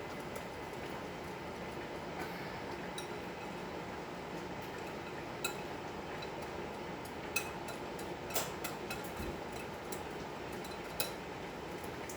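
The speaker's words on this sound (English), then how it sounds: "So I'm mixing up the oil." Utensil scraping and clinking around a bowl while oil is mixed in a home kitchen, a faint steady bed of soft stirring with a few sharper metallic ticks scattered throughout, no talking.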